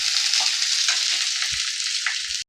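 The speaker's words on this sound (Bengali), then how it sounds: "আর এই গাজরটাও দিয়ে দিচ্ছি, কাঁচা লঙ্কাটাও দিয়ে দিলাম, কারি পাতাটাও দিয়ে দিলাম। এগুলো সব একসাথে একটু ফ্রাই হয়ে যাবে।" Carrot, green chili and curry leaves fry in hot oil in a pan for chire pulao, a loud, continuous sizzle with a few faint clinks of stirring underneath.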